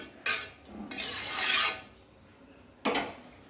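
A spoon rasps and scrapes inside a pot of fish and cauliflower curry in a few close strokes. A final scraping clatter follows as the pot is covered, with quiet pauses between the sounds and no talking.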